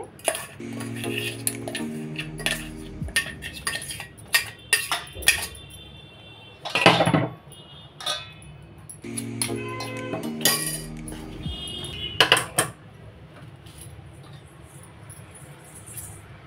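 A bowl of ground flour and betel leaf mixture is stirred by hand, scattered clinks and scrapes of a utensil against the bowl coming in uneven bursts with quiet pauses, with no voices.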